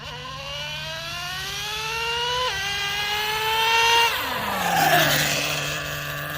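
A Traxxas Nitro Revo 3.3 two-speed nitro RC car engine buzzes close by with a sharp, whiny tone, rising in pitch in steps as it revs and shifts, then dropping back to a lower idle-like drone.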